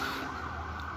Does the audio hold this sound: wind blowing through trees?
no